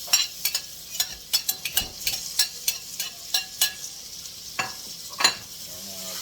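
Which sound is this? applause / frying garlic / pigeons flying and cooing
frying garlic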